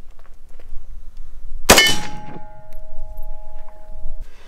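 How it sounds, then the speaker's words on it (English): A single loud, sharp rifle shot strikes sloped body armor, producing a bright metallic clang that rings on with a sustained tone for a couple of seconds before fading, with no talking. "I'm also shooting it right at center position, so it should ricochet that way."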